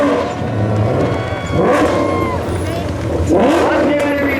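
Crowd noise swells at a spectator drag racing meet in North Carolina as cars rev nearby, with loud engine sweeps rising twice over a continuous roar of the gathered spectators.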